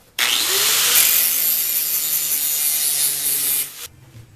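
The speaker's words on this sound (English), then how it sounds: "What I'm doing in this step is chamfering the inside corners of the frame" Steel inside corners of a metal table frame being chamfered with a power tool, a loud steady grinding rasp that runs about three and a half seconds before cutting off, with no voices.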